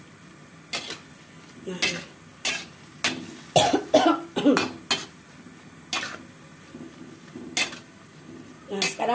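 Stir-fried water spinach is stirred in a pan, giving sharp scattered clinks and scrapes of a utensil against metal, close and fairly loud, with a voice speaking briefly at the start.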